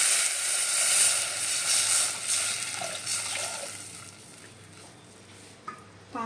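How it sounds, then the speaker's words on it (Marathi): Water poured into a pan of vegetables for a Marathi ukad dish gives a broad rushing hiss that fades gradually, followed by a faint clink of utensils near the end; no one speaks. "पाणी घालायचं।"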